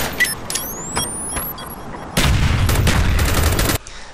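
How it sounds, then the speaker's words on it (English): Rapid gunfire from a PC session of the shooter game Call of Duty: Black Ops, with sharp bursts and single shots early on, then a dense, loud stretch of continuous automatic fire before it cuts off abruptly. "You can see the gunshots are a little bit out"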